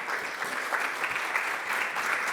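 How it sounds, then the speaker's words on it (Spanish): Audience applause at a cybersecurity talk in the healthcare sector, a steady wash of many hands clapping at moderate loudness that holds evenly throughout, with no voices over it. "Un aplauso"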